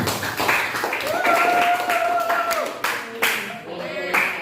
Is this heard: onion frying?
no